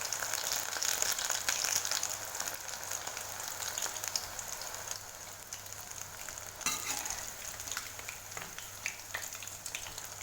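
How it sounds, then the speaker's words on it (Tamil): Vegetables deep-frying in hot oil in a kadai over a medium flame give off a steady, bright sizzle and crackle that holds evenly throughout, close by and with no talking. "கடாயில் எண்ணெய் நல்லா சூடான பிறகு ரெடி பண்ணி வச்சுருக்க வெஜிடபிள்ஸை இதில் போட்டு பொரித்து எடுத்துடணும்."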